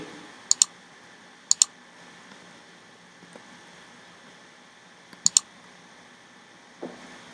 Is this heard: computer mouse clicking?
yes